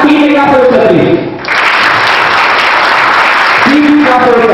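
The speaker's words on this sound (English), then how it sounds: "Guys, clap team in our first place." A corporate workshop team at a drum-jam session breaks into loud group clapping, sustained for a few seconds, with a voice speaking before and after.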